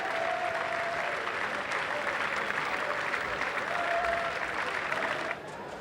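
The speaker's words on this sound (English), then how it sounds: "But they're on their feet, aren't they? They're cheering him off the ground." A cricket crowd at an England versus Sri Lanka match stands and applauds a departing batsman, with steady, dense, distant applause and cheering that holds for several seconds before dropping off abruptly near the end.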